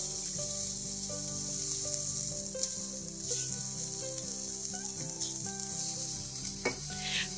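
Eggplant and garlic frying in a pan, a loud steady sizzle with occasional stirring scrapes, continuous and close with no talk.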